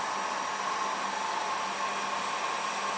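A PLC-controlled pipe bending machine with two stacks and punching runs its motor, giving a steady, loud whirring hum with a constant noisy wash and no speech.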